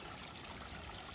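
A creek along the Appalachian Trail at Dick's Creek Gap trickles and babbles steadily as water is collected, a continuous close-up wash of running water with no voices.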